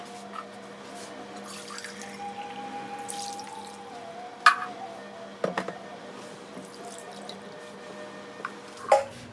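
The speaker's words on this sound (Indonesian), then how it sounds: "Kita isi air sampai ketutup permukaannya" Water poured from an emptied coconut milk can into a cooking pot to rinse out the leftover coconut milk, a soft steady trickle with a few louder drips and clinks, close and fairly quiet.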